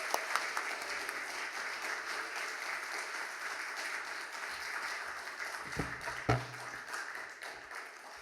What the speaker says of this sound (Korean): 우리 나오실 때 큰 박수 해주세요